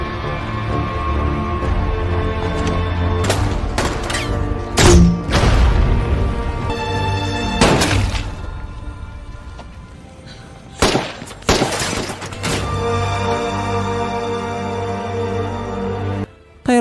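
Gunfire and explosions in an action film shootout involving a drug cartel, with loud sharp shots in scattered bursts and heavy blasts over a constant rumbling backdrop, close and intense, no speech.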